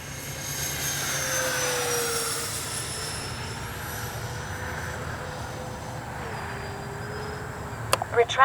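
A Freewing twin 70mm AL-37 RC jet passes overhead with a steady whining ducted-fan roar that shifts in pitch as it moves through the sky, a brief clatter near the end.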